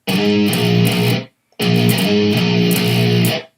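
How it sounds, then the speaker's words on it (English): Distorted electric guitar playing a riff with a whole-step string bend, two loud sustained bent notes with a short gap between them, close and alone with no talk. "So you want it to sound like this if you're bending."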